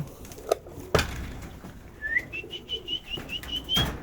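Pigeons in a loft in winter give faint coos and soft whistling calls, with a couple of brief wing flaps or knocks nearby.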